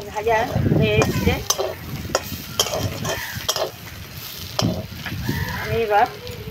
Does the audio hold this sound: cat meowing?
no